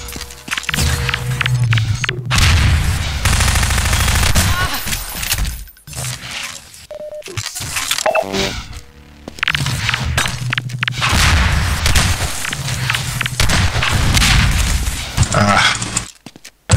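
Grenade blasts in a Half-Life 2: Deathmatch 1v1 match, loud bursts of booming gunfire and explosions with brief silent gaps, dense and chaotic throughout, no talk.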